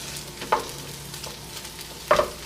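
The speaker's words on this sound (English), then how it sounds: "I'm going to let these two cook" Strawberry and cream cheese stuffed French toast frying in a pan gives a quiet, steady sizzle at close range, broken by two brief louder crackles.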